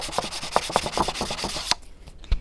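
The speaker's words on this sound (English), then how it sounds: "I need a sanding block with more sand on it" Quick back-and-forth rasping strokes of sanding, a rough scratchy rhythm up close that stops abruptly, followed by a soft thump.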